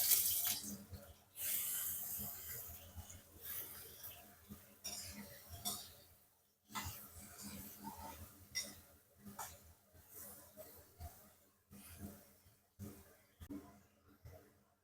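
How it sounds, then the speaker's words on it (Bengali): Paneer frying in a little ghee gives a steady, close sizzle with crackles that swell and fade over about fifteen seconds, with no talking. "পনিরগুলো ভেজে নেব।"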